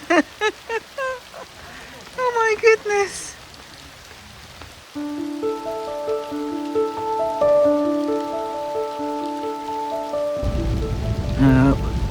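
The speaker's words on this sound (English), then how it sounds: "We're up in the hills at the moment, so and the rain is coming down." Heavy rain pours in the Tuscan hills, a steady broadband hiss that builds loud near the end, after a short exclamation from a voice at the start and sustained tonal notes layered through the middle.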